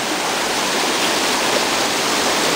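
A waterfall in Jae Son National Park drops over three successive falls with steady, loud broadband rushing water that never lets up and has no voices over it.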